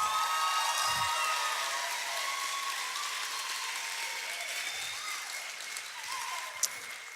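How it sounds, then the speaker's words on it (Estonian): An audience applauds for Christopher at a session, a continuous wash of many hands clapping that starts strong and then tapers slightly, with no talking. "Christopher on täna siin, teeme talle aplausi"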